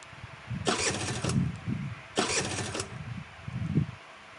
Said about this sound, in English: No matter what he did, the engine refused to turn over.